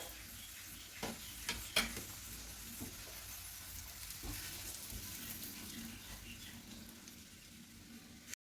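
Tindora masala being stirred in a pan, soft sizzling and scraping strokes with a few sharper spoon clacks early on, fairly quiet, and a faint voice in the background.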